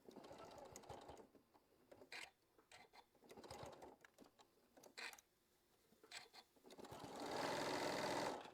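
A sewing machine stitches fabric for a quilt block in short, faint intermittent bursts, ending in a longer steady run, all quiet and close without talk.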